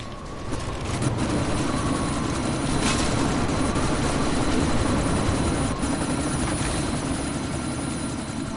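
A helicopter in Deus Ex: Mankind Divided hovers nearby during a sandstorm, a loud, continuous, steady rotor drone and engine rumble under a hiss of wind, with no voices.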